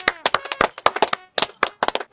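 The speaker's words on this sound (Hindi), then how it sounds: "अरे भाई इनके लिए ताली बजाओ।" Several people clap their hands in a quick, uneven burst of sharp claps, close and loud, with a short pause midway before the clapping resumes.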